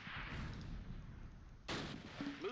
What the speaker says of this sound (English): Yep, there's the mortars.